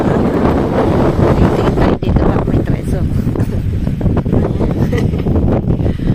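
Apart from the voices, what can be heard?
wind at the shore in Leucate, France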